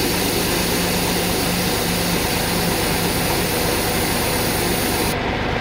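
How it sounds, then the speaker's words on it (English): A tractor disc ploughing sunflower stubble in a field, its engine a steady low drone with a faint repeating hum, heard continuously at a moderate distance with no talk. "He's disc plowing right now."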